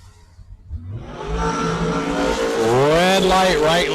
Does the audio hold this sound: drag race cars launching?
yes